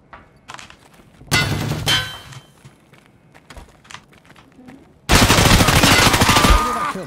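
AK-74N gunfire in Escape From Tarkov: a short, loud automatic burst comes first, then quieter scattered clicks and a pause, then a longer sustained volley up close. A voice is faintly heard in the quiet gaps.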